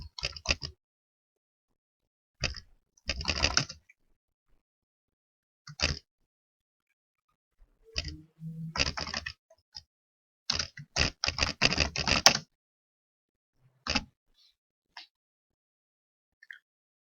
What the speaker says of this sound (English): you can type in the title of your meeting